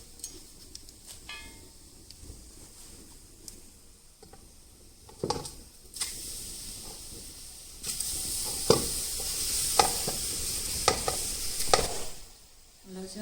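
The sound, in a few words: raw mangoes frying and being stirred in a wok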